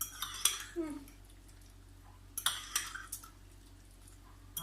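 Cooked pasta is mixed with egg and cream in a bowl or pan, with sharp clinks and scrapes of a metal utensil coming in short bursts over a quiet background.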